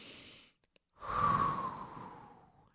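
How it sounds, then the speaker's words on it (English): A person taking a deep breath, one long airy inhale-exhale close to the microphone after a short quiet pause, swelling then fading slowly. "take a couple of deep breaths"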